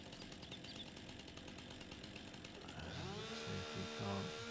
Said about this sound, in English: Chainsaw back on.